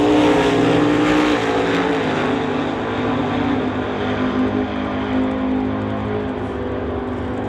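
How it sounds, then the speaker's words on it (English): Drag racing car engine, a 1970 Chevrolet Nova door slammer at the line, roars loudly and continuously with a dense harmonic drone and slight throttle surges throughout. "Paul Debris, you can hear him working the throttle"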